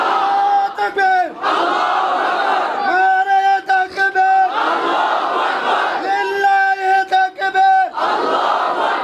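Large crowd at a religious sermon gathering roaring the takbir in unison, loud repeated chanted shouts in waves, each swelling and falling back, with a brief break between calls.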